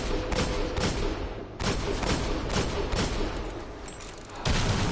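Video game gunfire in Destiny as a player shoots an enemy, with bursts of loud booming shots in quick clusters, a brief pause, then another heavy burst at the end.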